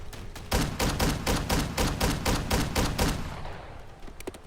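Rapid shotgun blasts from a KV Broadside in Fallout 4, about a dozen loud, evenly spaced booming shots fired in quick succession, followed by a few fainter clicks.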